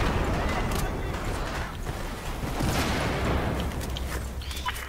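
Dense gunfire from a Battlefield 4 PC match on the Golmud Railway map, rapid overlapping shots and booms packed into a loud, continuous battle din with no pauses.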